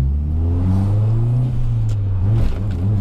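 A 500 hp Subaru Impreza STI with an external wastegate accelerates hard nearby, its engine note rising, dipping at a gear change and climbing again, loud and close with no talking over it.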